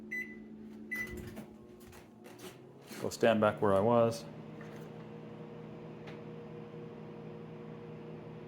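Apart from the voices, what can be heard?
microwave oven running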